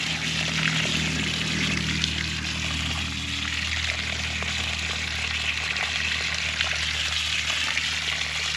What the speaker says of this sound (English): Let's go ahead and re-water.